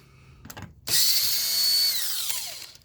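A power tool fitted with a T20 Torx bit removes a bolt during a trailer hitch installation on a 2021 Chevrolet Traverse: a sudden loud, steady whirring burst that runs nearly three seconds and then tapers off slightly.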